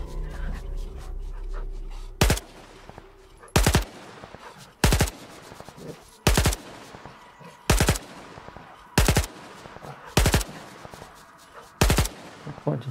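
Loud, sharp gunshots from the video game Stalker 2 fire about every second and a half in a steady series of eight, each with a short echoing tail over a low ambient bed.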